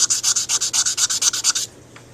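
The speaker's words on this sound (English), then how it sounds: "trying to get the sanding marks out from the 120 grit" Sandpaper rubs back and forth over a mouthpiece in about fourteen quick, even hand strokes, close and crisp, then stops, leaving near silence.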